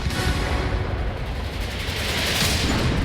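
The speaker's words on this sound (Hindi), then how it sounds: "यूक्रेन के मिकोलाइव में हो रहे धमाकों से आप समझ सकते हैं" Russian bombardment in Mykolaiv, Ukraine, comes through as a dense, continuous rumble of blasts and crackling impacts, loud and unbroken for a few seconds with no voices.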